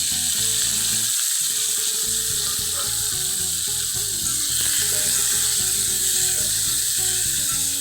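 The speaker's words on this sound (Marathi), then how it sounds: "कांदा भाजताना थोडंसं मी तेल सोडते याच्यामध्ये" Onion frying in oil in a pan for a Maharashtrian chicken masala: a constant loud sizzle fills the clip, close by, with a rapid mechanical ticking and clatter running underneath.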